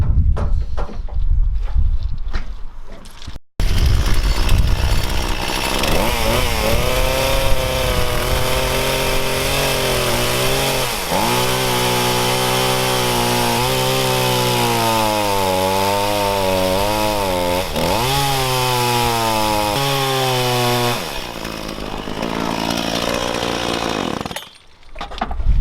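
A chainsaw cuts driftwood down to size, the engine snarling loudly and close for about twenty seconds with its pitch bending and dipping as the chain bites into the hard wood, bracketed by brief quieter moments at each end.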